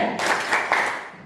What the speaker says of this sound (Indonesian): Mari kita beri tepuk keren pada kelompok Kasuari